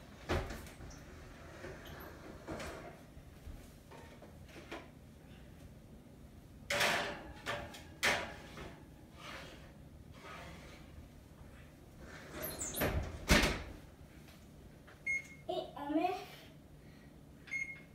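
Kitchen sounds while almond chocolate rochers go into the oven: scattered thuds and clunks of the oven door and nearby cupboards opening and closing, with a couple of louder knocks, and intermittent talking in between.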